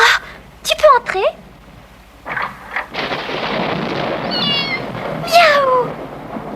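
A cartoon cat gives several sharp, wavering meows, some close and loud, separated by gaps, with a rumbling thunderstorm roaring in the background through the middle.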